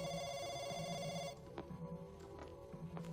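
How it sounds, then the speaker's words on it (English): A telephone bell rings in steady tones for just over a second, then cuts off abruptly, leaving faint clicks and a low hum on an open line. "Sorry, Agent Enola, the line was disconnected. It just rang and cut off"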